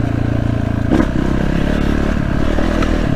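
A KTM 300 EXC two-stroke enduro motorcycle runs loud and close with a steady engine drone, then eases as the rider brakes, with rattling and scraping from the rough ground.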